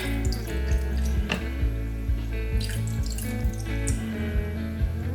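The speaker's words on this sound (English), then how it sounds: "So I'm just going to put some apple juice in there." Apple juice pours into a Ninja Creami pint container as a continuous trickling, splashing stream with a few drips near the end, heard close with no voices.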